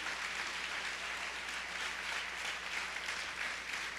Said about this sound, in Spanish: genérenle un aplauso fuerte al Señor